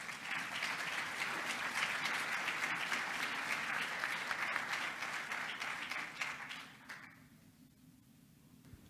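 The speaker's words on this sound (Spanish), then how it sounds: "Le damos la bienvenida con un fuerte y caluroso aplauso," Audience applause at a national public budget seminar, a full room clapping steadily and loudly for several seconds to welcome a speaker before fading to quieter scattered claps at the end.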